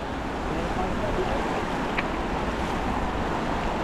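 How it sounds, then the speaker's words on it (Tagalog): A strong river current rushes past while a fishing net is hauled in, making a loud, steady roar of churning water mixed with wind buffeting the microphone and no clear pauses. "Sobrang lakas ng agos."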